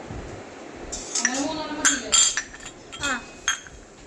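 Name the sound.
miniature glass clinking while unboxed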